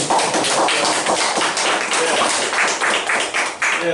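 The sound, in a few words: audience applause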